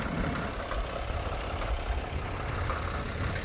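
A farm tractor sits idling before spreading fertilizer, its engine giving off a steady, muffled low rumble with a wash of broadband noise. The sound holds constant with no talking.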